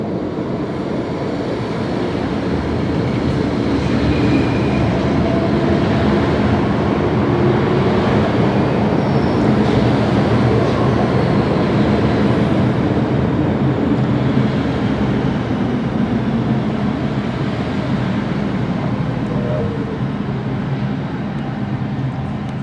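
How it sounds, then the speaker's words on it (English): A New York City subway M train rumbles past in a long, loud, steady roar of wheels and motors that swells slightly and then eases, with no talking. "another M train to finish off the video"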